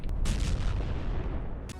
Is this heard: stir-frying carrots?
no